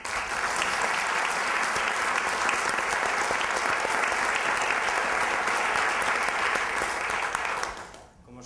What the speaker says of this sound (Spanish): Jimena, Pablo, Gonzalo, os pido un aplauso para ellos